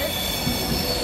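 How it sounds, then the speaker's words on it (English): Class 392 electric multiple unit 742 arriving from Glasgow Central, its wheels squealing steadily against the rails under a continuous loud rumble of a passing train. "392-742, arriving in from Glasgow Central."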